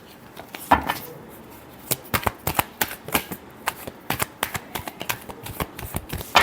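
A tarot deck is shuffled by hand in a rapid run of crisp riffling snaps and flutters, close and fairly loud, with short pauses between bursts and no talking.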